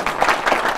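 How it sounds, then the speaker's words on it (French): An audience applauds in a broadcast studio, giving brief, dense clapping from several hands at moderate loudness. "On applaudit très fort pour vous-même."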